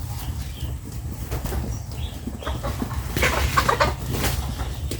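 Farm chickens cluck busily at feeding time, close and fairly loud, with bursts of wing flapping and a livelier flurry of calls near the end over a low steady background.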